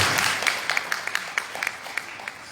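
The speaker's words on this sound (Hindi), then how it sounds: "एक बार फिर से गजेंद्र सिंह जी के लिए तालियां।" Applause from a seminar audience, brief scattered claps at moderate distance, fairly soft and thinning out over a couple of seconds.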